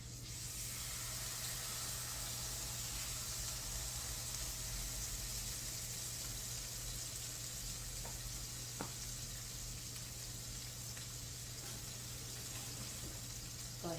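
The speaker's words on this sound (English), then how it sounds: "our pan is good and hot because when we added it, it immediately began to sizzle" A salmon fillet sizzles skin side down in a hot pan, giving a steady, even crackle and hiss that runs on its own for the whole stretch with no talking.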